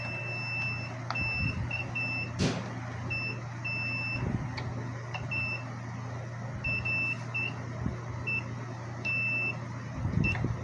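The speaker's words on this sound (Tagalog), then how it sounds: "Dapat may buzzer to." A low voltage disconnect wired to an inverter sounds its buzzer in short repeated beeps at irregular intervals over a steady low hum, with some faint handling clicks nearby.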